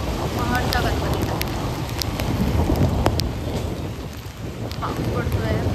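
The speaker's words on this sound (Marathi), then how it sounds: "पाऊस पडतोय मस्त." Rain falls steadily at the Varad Vinayak Ashtavinayak temple in Mahad, a close, continuous patter with scattered sharper drips.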